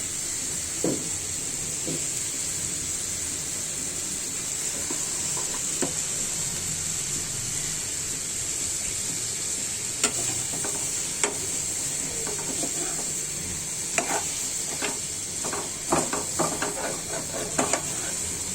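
Potatoes and onions frying with prawns in a pan, seasoned with dried chilli powder: a steady close sizzle and hiss throughout, broken by scattered clicks and scrapes of stirring, with no talk.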